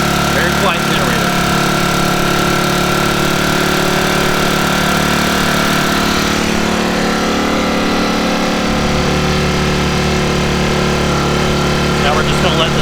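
A Sportsman 1000i generator engine runs steadily with no load, a loud continuous close hum with a slight shift in tone partway through.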